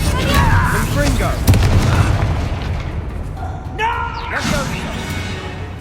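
A Confringo explosive spell detonates in Hogwarts Legacy, giving heavy booming blasts with crackling debris that fill the clip, the loudest burst near the start and another around the middle, over ongoing game sound.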